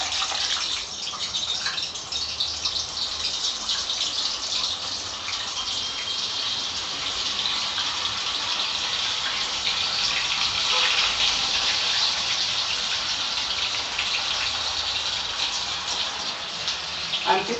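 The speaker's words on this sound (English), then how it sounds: "now I'll be adding some of my muthiyas to fry" Methi muthiyas fry in hot oil, giving off a steady, dense hiss and sizzle that holds evenly for the whole stretch, close and fairly loud, with no talking over it.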